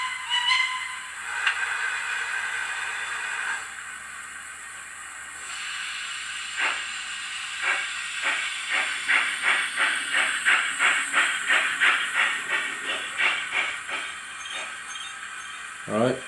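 A model steam locomotive pulling forward, starting with a steady hiss and then building into a rhythmic series of chuffing steam bursts that quicken and fade, with a faint voice at the end.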